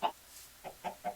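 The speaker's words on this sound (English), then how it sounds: "I spawned in more chickens than intended." Chickens in Minecraft give a short run of clucks: one louder cluck, then three quicker, softer clucks spaced closely together, close by and with no talking.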